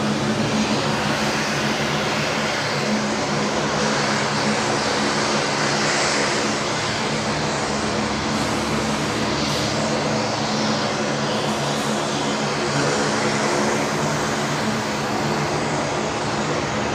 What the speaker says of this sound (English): this is Qantas 532 coming in from Sydney